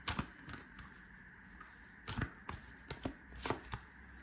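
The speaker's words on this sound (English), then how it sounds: "I'm going to go ahead and pull the cosmic reading cards" A deck of cosmic reading cards shuffled for a tarot reading, with crisp riffling bursts and soft slaps in an irregular rhythm, close and quiet, with no talking.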